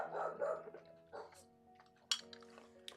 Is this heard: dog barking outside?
yes